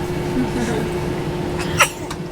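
A single sharp sneeze bursts out near the end, after a stretch of quiet background murmur.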